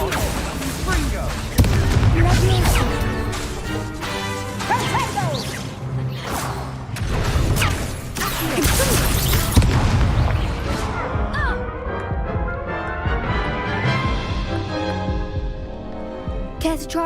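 Confringo blasting spells cast over and over in a video game: dense bursts of whooshing blasts and booming crashes overlap almost without pause, loud and close, with voices talking through the effects.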